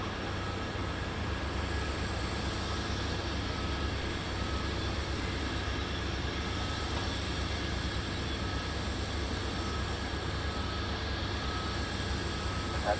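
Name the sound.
aircraft taking off from runway 23 left at Taoyuan airport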